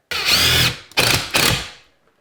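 A power drill drives screws into wall studs while a kitchen cabinet is installed, heard as three close, loud whirring bursts. The first burst is longest, and the second and third are shorter, each ending as the motor winds down.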